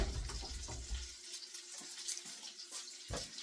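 Tap water runs into a kitchen sink while a knife is rinsed during home cooking, a steady close splashing hiss with a few clinks and brief pauses, with no talking.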